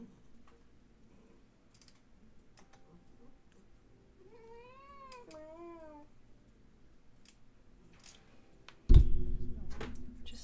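An indoor cat gives two drawn-out, wavering meows in the middle of an otherwise quiet room, fairly close; a sudden loud rustling thump follows near the end.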